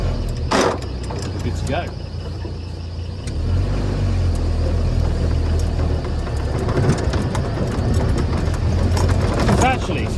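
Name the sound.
Land Rover Series 1 engine starting and driving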